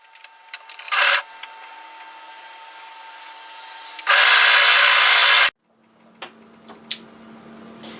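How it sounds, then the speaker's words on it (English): An overlocker sewing machine serges the shoulder seam of a hoodie, giving a short whirring burst and then a longer, steady, close mechanical hum between quiet clicks and handling sounds. "overlock the shoulder area"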